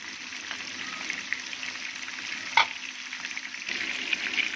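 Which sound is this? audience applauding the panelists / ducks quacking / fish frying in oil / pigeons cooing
fish frying in oil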